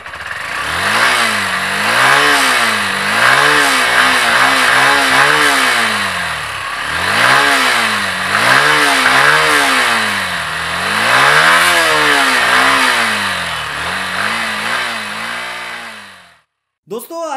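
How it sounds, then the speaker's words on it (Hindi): A Honda Hornet 160R motorcycle is revved repeatedly close by, its exhaust climbing and falling in several throttle blips over an idle before the engine abruptly cuts out. "दोस्तों चलते चलते इसकी एग्जॉस्ट नोट भी एक बार सुन लेते हैं।"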